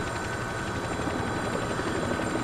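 A helicopter in Spec Ops: The Line roars steadily, a loud, dense rotor and engine wash filling the whole moment without a break and with no voices.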